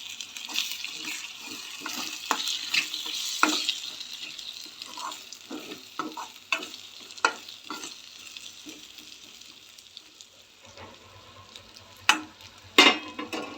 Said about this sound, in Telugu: ఒక నిమిషం ఉడకనిద్దాం. ఒకసారి కలుపుకుందాం